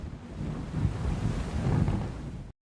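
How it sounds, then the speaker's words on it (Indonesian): Big ocean waves churning and crashing against a boat at sea, a continuous loud roar of surf and wind rising and falling, then cutting off abruptly. "Ombak besar membalikkan kapalnya."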